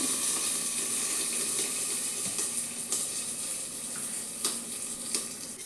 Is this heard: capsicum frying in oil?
yes